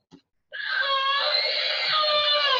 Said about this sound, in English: Now this is the screaming sound.